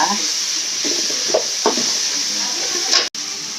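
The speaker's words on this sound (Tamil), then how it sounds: "இப்போ இந்த கொத்தமல்லி, புதினா போடலாம். வதங்கிட்டு நல்லா" Coriander and mint leaves sautéing in a pan for vada curry: a steady, fairly loud hiss of frying with a few soft stirring knocks and a brief break near the end.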